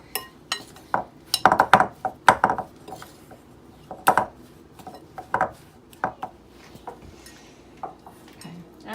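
A fork scrapes and clinks against a bowl, mixing wet ingredients into dry ones with pea-sized bits of oil for a lumpy gluten-free bread dough, in quick irregular bursts at close range with no talk.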